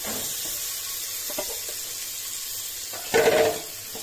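Vegetables dropped into hot oil for masala khichdi set off a steady, crackling sizzle throughout, with a brief louder burst of frying near the end as more goes into the pan.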